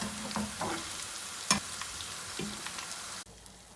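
Crispy corn frying in hot ghee, a continuous crackling sizzle with a few louder pops and stirring knocks, close and steady, ending abruptly.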